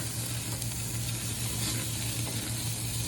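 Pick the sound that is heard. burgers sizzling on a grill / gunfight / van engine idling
burgers sizzling on a grill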